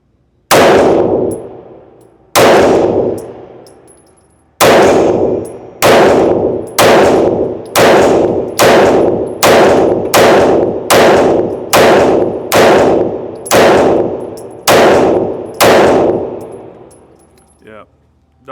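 A Shadow Systems CR920XP pistol fires a full magazine at a range: loud, sharp ringing shots, first spaced apart, then in a fast steady string, each decaying before the next, ending in quiet.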